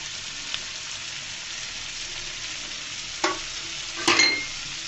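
Sliced onions frying in hot oil give a steady, even sizzle close by, broken by a couple of louder scrapes or clinks of a utensil against the pan near the end; no one speaks.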